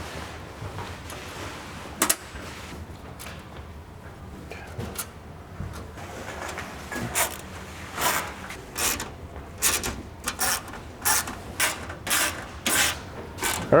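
Bolting a wickerbill onto a Fox Body hatch wing: steady mechanical rubbing, then a run of quick rhythmic ratchet clicks and cranks that grow busier and louder toward the end, close up with no talking.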